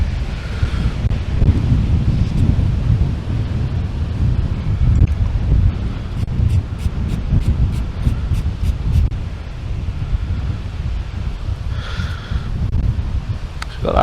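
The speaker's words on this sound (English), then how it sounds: "I do apologise about this wind. It is absolutely crazy today," Strong wind buffeting the microphone outdoors during a metal detecting outing in the UK, a loud, continuous low rumble with gusts, plus faint clicking and a person talking briefly.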